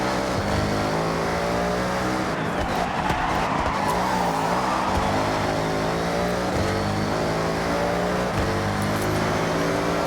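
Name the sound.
race car driving in video game Forza Horizon 6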